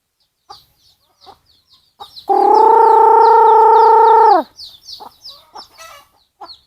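Chickens clucking in a farmyard, close and loud, with scattered short clucks throughout, broken by one long sustained crow-like call lasting about two seconds midway, with no talking.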